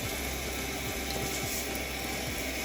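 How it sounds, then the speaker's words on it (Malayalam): Roasted split moong dal being washed in water for cherupayar parippu payasam, a steady, close rushing of running or splashing water that continues evenly throughout, with no talking. "വറുത്ത് മാറ്റിയ ചെറുപയർ പരിപ്പ് നമുക്ക് നന്നായിട്ട് കഴുകി മാറ്റാം"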